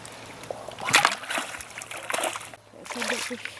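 A freshly hooked bream splashes in river water on a feeder fishing trip, with bursts of splashing and sloshing close by, mixed with an excited voice talking.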